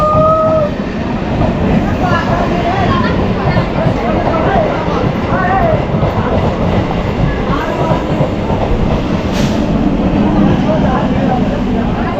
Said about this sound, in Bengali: ট্রেন এখন ছেড়ে চলে যাচ্ছে